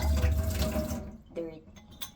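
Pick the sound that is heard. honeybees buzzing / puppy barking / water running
water running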